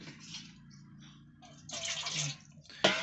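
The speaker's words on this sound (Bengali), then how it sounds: "ওর উপরে হালকা করে একটু জল দিয়ে দাও" Water poured lightly from a vessel over snails in a cooking pot, set to boil in a village kitchen; a soft splashing trickle that swells into a louder pour near the end, with faint background voices.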